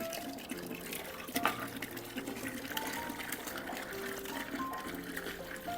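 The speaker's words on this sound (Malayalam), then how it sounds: "ഇങ്ങനെയാണ് ബ്ലോക്ക് നീങ്ങി വെള്ളം വരുന്നത്." Water flows from the outlet of a home biogas plant once a blockage is cleared, a steady trickling and gushing stream that is faint and continuous, with no talking.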